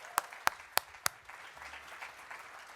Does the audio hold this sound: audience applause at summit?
yes